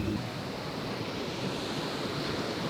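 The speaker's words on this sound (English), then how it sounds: "wow, what a beautiful beach" Ocean waves wash onto a beach in Tulum, Mexico, a continuous close rush of surf mixed with steady wind buffeting the microphone.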